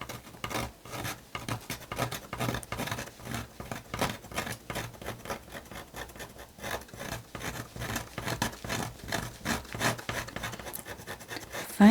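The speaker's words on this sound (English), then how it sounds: "it's just as easy to scrape it off rather than try and lift it" A blade scrapes glued paper off a book board in steady repeated strokes, close and moderately loud, a rough rasping rhythm with no talking.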